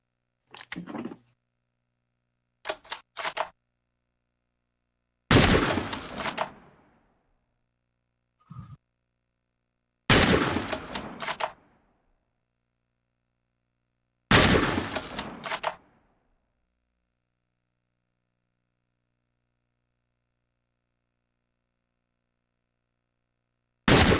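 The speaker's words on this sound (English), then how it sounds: "I just shoot at the ground." Bursts of gunfire from a video game, each volley a loud, dense crackle lasting about a second, spaced apart by silence with one faint short pop between them.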